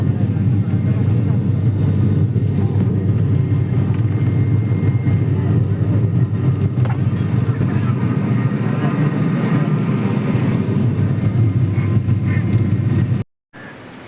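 Steady, loud low-frequency engine drone fills an airplane cabin with a constant rumble throughout, then cuts out abruptly near the end.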